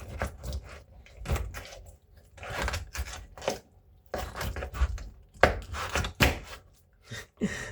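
A knife cuts through a whole chicken on a board, making uneven bursts of crunching and thudding strokes with short gaps between them, close and moderately loud.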